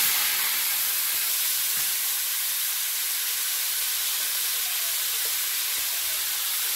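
A loud, steady hiss of potatoes frying in oil with cumin, continuous and close, with no voices.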